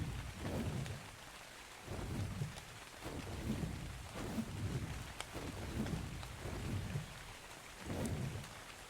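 Steady rain with rolling thunder in the video game ARK on the Crystal Isles map, a constant downpour swelling into low rumbles every second or two, heard alone with no voices.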